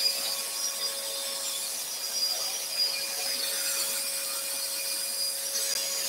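A scroll saw cutting wood for a shelf bracket, with a steady buzzing, rasping drone from the reciprocating blade that holds at an even level throughout, alongside a constant high whine.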